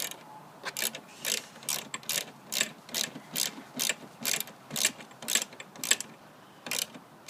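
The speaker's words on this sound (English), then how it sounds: "Now, what you're going to use is a 7/16 socket set." A 7/16 socket ratchet tightens a ceiling TV mount, giving crisp, close ratcheting clicks in short, regular bursts with little pauses between strokes.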